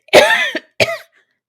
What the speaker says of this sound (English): She coughed violently.